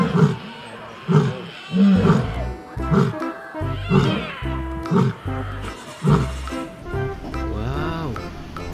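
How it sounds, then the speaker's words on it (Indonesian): A toy lion lets out a string of loud, growling electronic roars, one after another in rapid bursts, close up and alone. "Wow, ini singa teman-teman."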